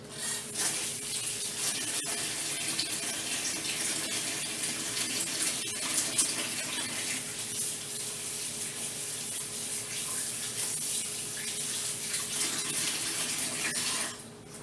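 A kitchen faucet runs steadily, water pouring into a sink in an even, continuous gush that holds for about fifteen seconds while raw chicken is being handled.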